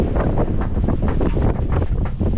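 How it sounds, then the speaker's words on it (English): Steady roaring wind buffets the microphone, with a faint whistling edge from a sailboat's sails rising and falling over a low rumble of water. "you can hear the sails whistle"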